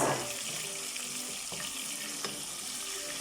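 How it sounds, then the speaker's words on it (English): Steady broadband sizzling and hissing, like meat frying in a pot, loud and close with a couple of faint clicks; no talking. "So I'm frying my meat."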